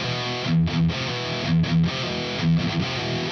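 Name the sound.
distorted electric guitar playing a verse riff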